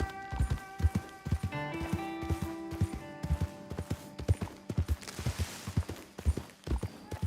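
Horse hooves clip-clop in Red Dead Redemption 2, a steady close rhythm of hoof strikes, with sustained musical tones underneath and a brief whinny-like flourish.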